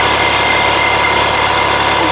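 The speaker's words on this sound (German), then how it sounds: "Der Kompressor läuft zurzeit, ja, aber zu wenig." Supercharged G Power car engine running steadily with its compressor, a constant close, loud drone with no one talking.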